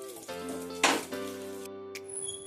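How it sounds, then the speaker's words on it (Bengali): Paneer pieces fry in hot oil with a steady sizzle and a brief metallic clatter of utensils, heard alone and close. "দেখুন আমি পনিরগুলো আমার ভাজা হয়ে গেছে"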